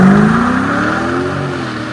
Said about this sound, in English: Got a resonator in the muffler